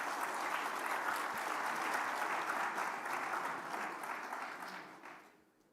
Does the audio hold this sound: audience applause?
yes